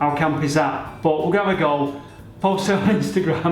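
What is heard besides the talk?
No everyday noises stand out.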